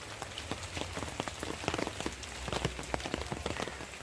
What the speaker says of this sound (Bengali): আর এখানে বৃষ্টি পড়ছে